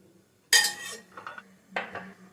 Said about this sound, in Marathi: तर लसूण आपण ठेचून घेऊया असं.